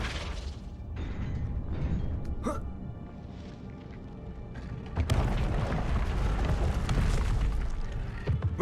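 Spell blasts from Hogwarts Legacy, Confringo then Flipendo, go off as muffled booms and pops with a sharp crack midway. A louder, denser burst of magical impact noise follows.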